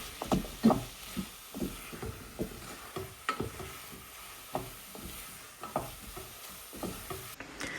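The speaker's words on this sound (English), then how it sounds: "Then mix that up together. So it's kind of like a scramble." Mixing an egg scramble mixture in a bowl, a steady series of soft scraping and knocking stirs, fairly close and moderately loud, with no talking.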